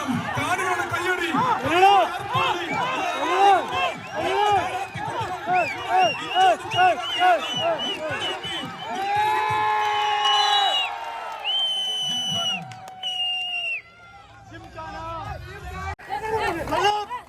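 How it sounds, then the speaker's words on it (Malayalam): Spectators roar and cheer at a tug of war contest during an Onam festival event at Lulu Mall in Muwaileh, Sharjah, with a dense, continuous hubbub of shouts and whoops and rhythmic chanting that rises and falls over several seconds. "കാണികളുടെ പ്രോത്സാഹനം, കാണികളുടെ കയ്യടി"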